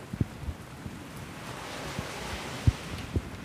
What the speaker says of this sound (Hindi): काफ़ी तेज पानी है, बारिश काफ़ी ज़्यादा हो रही है